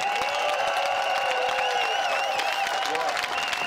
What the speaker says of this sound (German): gebt mal einen richtigen Applaus für die Veranstalter hier